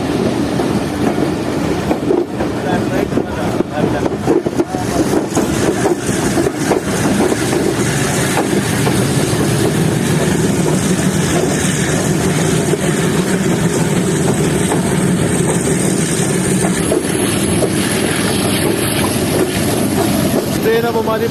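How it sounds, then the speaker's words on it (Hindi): The Jaffer Express rolls on toward Attock City Junction after entering Punjab, heard from aboard. A long, even engine-and-wheel drone holds throughout, with indistinct voices at times. "ट्रेन अब हमारी पंजाब में एंटर होने के बाद आगे बढ़ रही है अटक सिटी जंक्शन रेलवे स्टेशन की तरफ"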